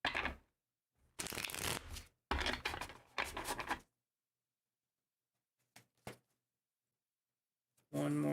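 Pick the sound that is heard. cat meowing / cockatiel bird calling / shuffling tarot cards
shuffling tarot cards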